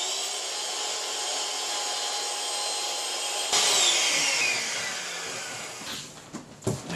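Electric air pump inflating an inflatable Belgian draft horse toy, a steady loud motor whine and airflow hiss running throughout, its pitch shifting partway as the load changes, with a few knocks near the end.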